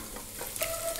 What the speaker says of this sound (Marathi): इथं कोल्हापुरी मसाला घेतलाय मी, गरम मसाला। आता हे परतून घ्यायचंय।